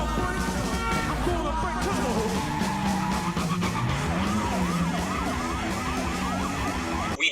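Police sirens wail loudly throughout while a stunt car slides toward the camera and swings around a street corner, a pack of eight police cars following close behind, with sustained engine and tire noise under the sirens.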